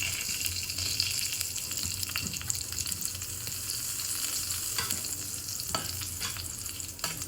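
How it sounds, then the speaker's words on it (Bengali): Chili, cinnamon, cardamom, cumin and bay leaf tempering in hot oil left from frying potatoes and pointed gourd, a dense continuous sizzle close by with a few scraping stirs, no voices. "এবার ওই তেলেই আমি লঙ্কা, দারুচিনি, এলাচ, জিরে, তেজপাতা এগুলো ফোড়ন দিয়ে দিচ্ছি।"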